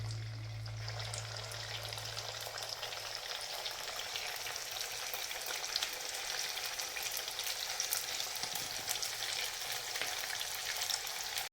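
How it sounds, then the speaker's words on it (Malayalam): Chicken samosas fry in hot oil with a dense, continuous bubbling sizzle, close and steady, with occasional crackles over the constant hiss and a brief low hum at the start. "ഓരോന്ന് വീതം ചൂടായ എണ്ണയിലേക്കിട്ട് നമ്മൾ പൊരിച്ചെടുക്കുക"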